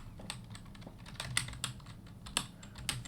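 Fingers tap out a short burst on a computer keyboard, a quick irregular run of close, crisp key clicks with brief pauses between clusters, no voices.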